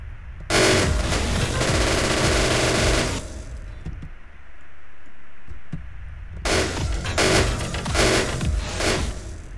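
Loud, distorted rapid gunfire from an 'ear rape' gun in the game People Playground, blasting in two long bursts separated by a quieter gap with scattered clicks.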